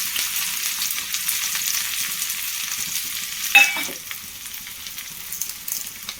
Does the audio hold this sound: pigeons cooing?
no